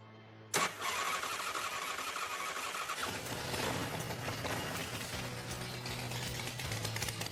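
A long-dormant motorcycle engine, unrun for over two years, cranks and fires after a half-second of silence, then settles into a steady, loud running rumble close by with no talking.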